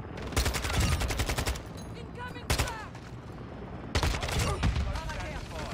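Dense bursts of automatic gunfire from the Modern Warfare 2 video game, loud and rapid in three long volleys with short gaps, while a player talks over the shooting.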